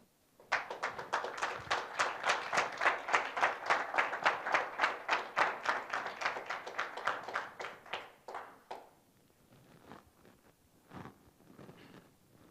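A museum audience applauds after a talk at the Musée d'Orsay, dense steady clapping for about eight seconds, then thinning out to scattered claps.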